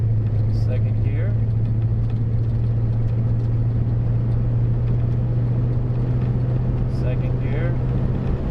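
An abandoned Chrysler car driving from a stop and shifting up through the gears, its engine a loud, steady rumbling drone close by, with a few brief voices over it.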